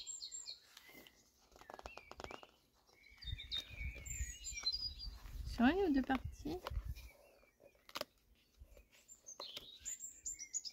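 Small birds chirp and tweet throughout, with fluttering wing sounds, while a person speaks briefly over them, in rural Normandy.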